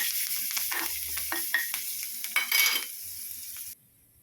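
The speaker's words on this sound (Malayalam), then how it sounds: "ഈ താളിച്ചതിന് പച്ചടിയിലേക്ക് ചേർത്ത് കൊടുക്കാം." Sizzling tempering with curry leaves poured into beetroot pachadi, a bright, close crackle with a few sharp spits that fades quickly and stops abruptly near the end.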